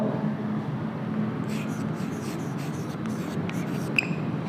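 Chalk or marker writing on a board during an English grammar lesson, making soft scratchy strokes in short bursts over a steady room hum.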